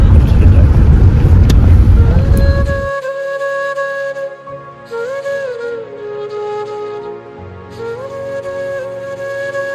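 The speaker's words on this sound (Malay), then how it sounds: "Untuk kereta yang kita sewa ada problem sikit, bearing bunyi kasar sangat." A rental car with a rough, noisy wheel bearing rumbles along in a loud blast of wind and road noise, then settles into a steady cabin drone with a humming whine that rises and falls as it drives.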